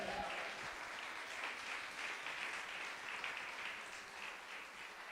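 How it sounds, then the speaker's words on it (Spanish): Steady applause from a church congregation, a dense wash of many hands clapping together that stays even and sustained throughout, with no one speaking over it. "¿Le puedes dar un aplauso al Señor por eso?"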